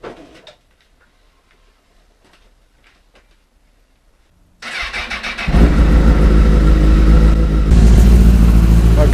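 A motorcycle engine is started for an oil change, cranking after a few quiet seconds of faint ticks, then catching and settling into a loud, steady idle as it warms up.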